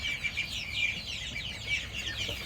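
A bantam chicken clucks softly in a steady, chattering run of short calls, fairly close, with faint background noise and no talking.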